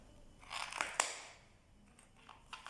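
Scissors cut through a bath sponge being made into a fascinator, giving a soft, crunchy snip early on followed by a few faint, scattered clicks in a quiet room.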